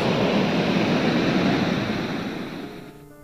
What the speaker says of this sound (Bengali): ঝর্ণার জলের কি আওয়াজ!